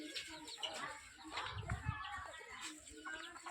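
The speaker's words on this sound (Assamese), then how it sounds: "এইবিলাক মুৰ্গীৰ পোৱালি" Young chicks cheep and a hen clucks in a village yard, a busy scatter of small bird calls close by, with people talking throughout.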